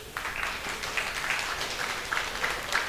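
A sangeet ceremony audience claps loudly and steadily for about three seconds, with dense, continuous applause and a few sharper individual claps standing out.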